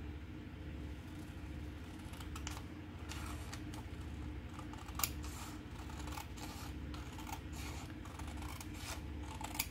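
Scissors snip through craft material in a quiet room, a series of short crisp cuts spaced irregularly over a low steady background hum, close and fairly soft with no talking.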